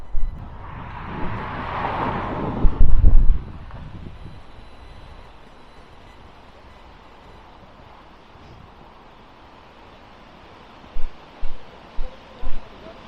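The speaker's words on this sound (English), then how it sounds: "It is still very, very windy." Gusty wind buffets the microphone with rumbling bursts early on along a canal, then settles into a steady low roar with a few short thumps near the end.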